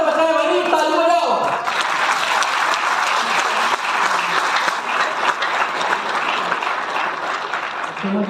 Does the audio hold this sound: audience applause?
yes